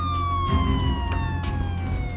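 A loud wailing siren sounds at Tihar Jail, its tone gliding steadily downward under dense background rumble and noise, with no talking.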